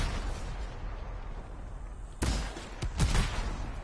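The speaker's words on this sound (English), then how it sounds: "this is my ultimate. Fires 3 massive rockets." Three massive rockets launched as an ultimate ability in the video game Anthem, heard as a sudden loud blast followed by two more sharp booming impacts in quick succession over a constant background rumble.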